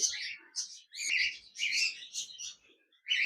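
A pair of big lutino red-eye cockatiels, a male on a perch and a female in a nest box with chicks, chirps close by in repeated bright bursts separated by short pauses.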